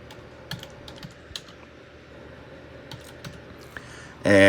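Computer keyboard typed on in short irregular bursts of clicky keystrokes, close by in a quiet room, ending with a sudden louder noise.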